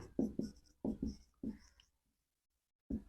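Writing on a board during a lecture on Gauss's law, heard as a few short scratchy strokes in quick clusters separated by brief pauses, close and fairly quiet.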